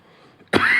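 A single abrupt cough with throat clearing from a presenter at a talk on cryptography, loud and close after a near-silent moment.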